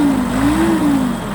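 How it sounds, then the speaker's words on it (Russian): A Kubota GT-3 mini tractor engine runs on a cold day, a smooth, fairly quiet steady hum with a slight wavering pitch, close by and alone. "Но, тем не менее, трактор запустился без каких-либо проблем."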